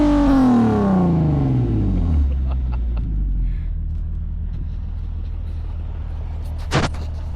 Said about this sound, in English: A little burnout in the Z, as one would.